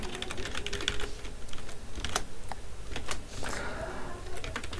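Code is being typed on a computer keyboard: quick, irregular clicks and clacks of keys, close and moderately soft, in short bursts with brief pauses between.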